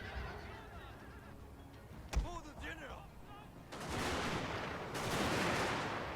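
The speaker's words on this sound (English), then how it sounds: "And line infantry, open fire if you please." Line infantry rifles firing in volleys during a Total War: Fall of the Samurai battle: a sharp crack, then dense crackling musketry swelling in two loud waves behind battlefield noise and voices.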